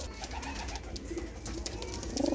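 Pigeons coo softly nearby, several low warbling calls overlapping against a quiet background.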